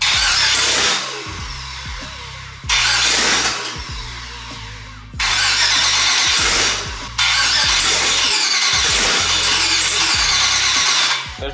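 An LS-swapped New Edge Mustang cranks for its first start-up, loud and close, in four separate whirring, grinding cranking bursts with short pauses between them.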